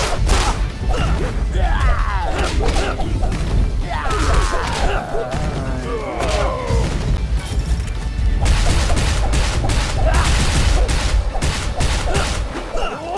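Gunfire from the weakest gun in a Nintendo Switch video game, loud, busy bursts of crashing shots and impacts running through the whole stretch with dense game effects around them.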